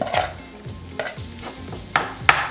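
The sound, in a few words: rice frying in melted butter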